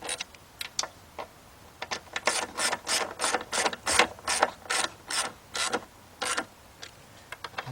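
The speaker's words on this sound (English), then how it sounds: "my 1/4" drive ratchet" Quarter-inch drive ratchet turning a fastener during work on a Chrysler or Dodge vehicle, a crisp close clicking in a series of short rapid bursts separated by brief pauses.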